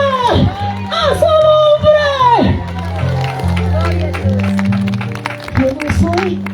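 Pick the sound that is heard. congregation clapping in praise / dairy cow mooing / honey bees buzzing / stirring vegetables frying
congregation clapping in praise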